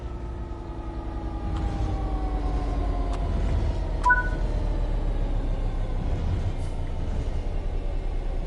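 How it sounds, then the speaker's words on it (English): A train in Train Sim World 3 coasts along on level ground with a low continuous rumble and faint wheel hum, a couple of brief metallic squeals rising over the drone. "The train will then coast on level ground"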